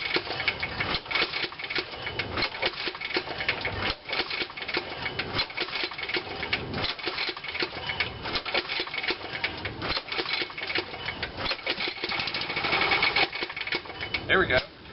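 Small lawn equipment engine cranking and sputtering as it tries to start after being choked, a steady rapid mechanical chatter lasting throughout, with brief bursts of louder running near the end.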